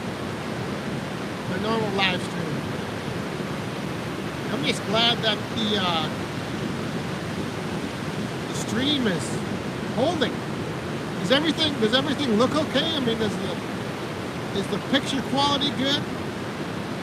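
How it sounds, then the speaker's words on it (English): Steady ocean surf washes along a West Coast beach as a continuous, muffled rush beneath someone talking throughout. "I know the sound is kind of muffled probably from the ocean"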